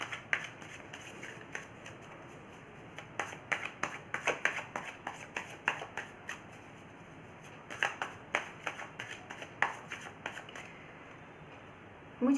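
Tarot cards being shuffled by hand, a quiet, close series of crisp riffling slaps and flicks in irregular bursts, with short pauses between runs.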